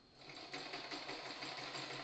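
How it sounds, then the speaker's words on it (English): A sewing machine stitches fabric for a fursuit, a close, continuous rapid mechanical whirring with a steady fast pulse that holds at an even level throughout. "Do not force your sewing machine to sew."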